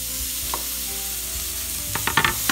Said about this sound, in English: We'll let that cook off while we're cooking our ground beef.